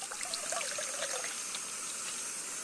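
Water is poured into a Jetboil Flash cooking pot over the steady hiss of the lit gas burner, with a trickling, splashing sound strongest early that fades into the continuous rush.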